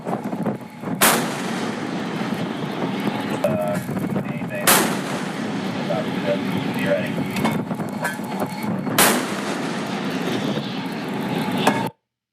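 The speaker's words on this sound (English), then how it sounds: "We're prepared to subject you to disabling fire." Disabling gunfire from a naval ship enforcing a blockade, three heavy booming shots spaced a few seconds apart over a constant engine rumble, with voices talking in the background.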